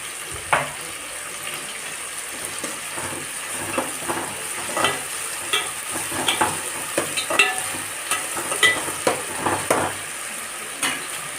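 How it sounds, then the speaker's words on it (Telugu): Ginger garlic paste sizzles in a hot pan for a chicken curry, with repeated scraping stirs of a spoon clattering against the pan over a steady frying hiss. "అల్లం వెల్లుల్లి పేస్ట్ వేస్తున్నాం"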